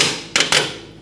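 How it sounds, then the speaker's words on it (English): Two sharp metallic knocks a split second apart as a pry bar forces out a rear upper control arm bolt on a 2002-2006 Honda CR-V, close and loud in a quiet garage with no talk. "now I'm gonna push our bolt out"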